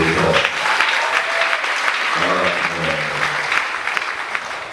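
A church congregation applauds loudly and continuously, a dense clapping crowd nearby with some voices mixed in.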